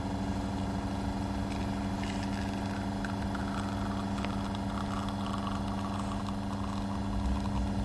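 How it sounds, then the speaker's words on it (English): A Gemilai 3131A espresso machine runs its rotary pump, a quiet, steady hum with a low constant drone and faint mechanical whir throughout. "you can see that the pump is actually very quiet. Right, that's because it's using the rotary pump and not the vibratory one."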